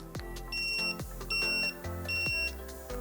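Three evenly spaced electronic beeps sound from a tattoo power supply, each a steady high tone lasting under half a second, over a low background hum.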